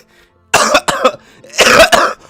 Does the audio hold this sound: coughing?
yes